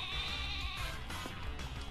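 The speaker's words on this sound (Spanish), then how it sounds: "Hablando de ovejas." Sheep bleating in Pokémon Sword, a single sustained nasal bleat, near and fairly loud, with no talk over it.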